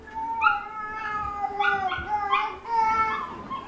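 Black Labradoodle puppies, about twelve weeks old, yip and whimper in a rapid run of high, thin cries that overlap and rise and fall, close and fairly loud, with no talking over them.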